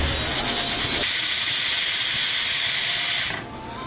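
A pressure cooker of boiler chicken for village-style biryani hisses with a loud, steady jet of escaping steam that runs for about three seconds and then cuts off abruptly.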